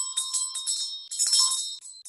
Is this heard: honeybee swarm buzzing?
no